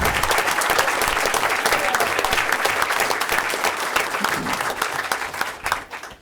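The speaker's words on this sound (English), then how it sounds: "Let's give her a round of applause" Dense applause from a seated audience at a Board of Education meeting, honoring a state champion, loud and sustained for several seconds before tapering off at the end.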